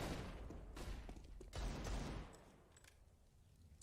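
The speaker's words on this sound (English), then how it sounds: "Hail Mary, wall bang from Kenny." Wall-bang gunfire in Counter-Strike: Global Offensive during a professional esports match, a loud dense burst of shots followed by a few fainter scattered cracks.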